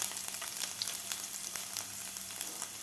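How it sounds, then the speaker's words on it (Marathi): Finely chopped garlic sizzles in hot oil for veg momos, a soft continuous crackle with small pops, steady and fairly quiet with no talking. "तेल आपलं गरम झालेलं आहे. यामध्ये घालायचं आपल्याला 2 टीस्पून लसूण घेतलेला आहे मी बारीक कापून."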